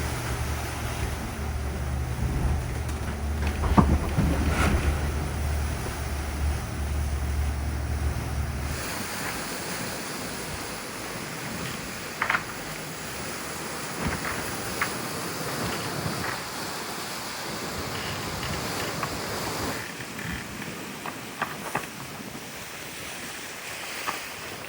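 Ocean waves wash around a sailboat at sea on a rough passage, a continuous surging roar with strong wind buffeting the microphone and occasional knocks and splashes.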